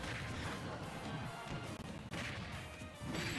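King K. Rool's cannon attack in a Super Smash Bros. Ultimate tournament match: a dense, booming crash and blast that fills the whole moment amid busy game noise.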